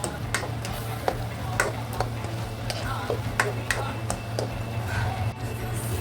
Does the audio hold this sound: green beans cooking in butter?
yes